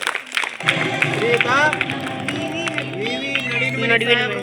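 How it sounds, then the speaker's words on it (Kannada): A quiz crowd at a school event for young pupils breaks into loud applause for a team, clapping mixed with cheers and busy voices as people chatter over it. "ಜೋರಾದ ಚಪ್ಪಾಳೆ ಬರಲಿ"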